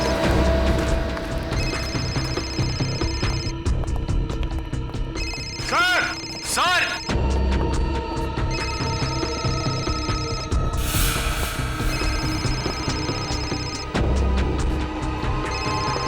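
A mobile phone rings with repeated electronic tones amid background music and clatter, while a man calls out briefly in Hindi.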